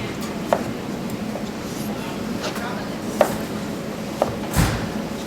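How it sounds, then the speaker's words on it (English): A knife chopping vegetables into large chunks for puff pastries, a handful of separate thuds spaced irregularly, close by, with light background noise and a voice talking. "I'll cut a nice, pretty big chunk"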